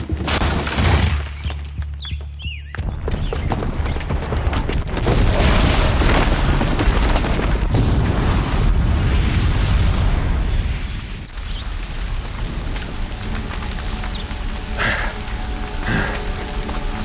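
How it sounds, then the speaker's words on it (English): Bomb blast in the video game Horizon Zero Dawn: a long, loud, rumbling roar of explosions and debris that keeps going for many seconds, with crackling and falling rubble and no speech. "the booby trap on the bomb downstairs is gonna get set off."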